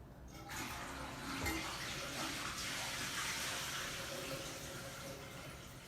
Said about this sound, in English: Oh, I gotta flush